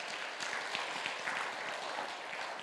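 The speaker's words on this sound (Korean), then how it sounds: "박수 한번 치겠습니다" A church audience at an Oregon congregation's faith concert claps in applause, a brief, dense, steady patter heard from a moderate distance.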